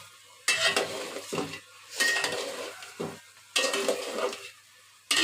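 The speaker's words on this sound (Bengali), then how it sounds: "এখন একটু নেড়ে চেড়ে নিব।" A spoon scrapes and stirs spiced chicken biryani with cardamom powder, bay leaf and cinnamon in a metal pot, in three distinct bursts of gritty scraping separated by short pauses, close and fairly loud.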